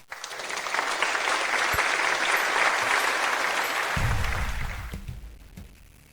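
Sustained applause from a crowd welcoming a guest onto a stage at a young painters' competition event, steady and full for about four seconds before thinning into scattered claps and low rumble.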